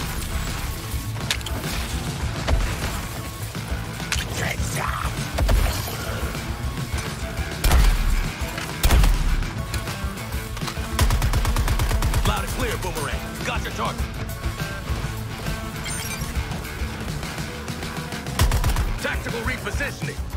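Rapid gunfire from a third-person shooter set in an open-world Metropolis in Suicide Squad: Kill the Justice League, bursts and thuds tangled in dense game music and effects, with a voice talking over the fight.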